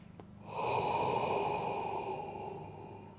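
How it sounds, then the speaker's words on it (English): A person takes a long, deep breath in during a guided meditation, a single steady airy inhale that swells quickly and then holds for a few seconds, heard close and alone with no talk. "Now let's breathe again."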